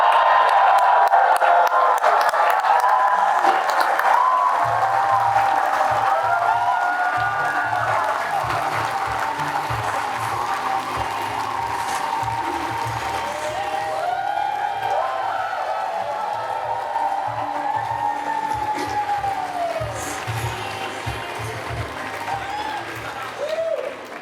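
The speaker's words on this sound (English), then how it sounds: "let's give a round of applause and welcome Madame Diana Fox Carney" A large crowd at a federal Liberal political rally in Richmond applauds steadily and cheers with scattered whoops and shouts, a sustained loud roar of clapping lasting over twenty seconds with a low hum underneath.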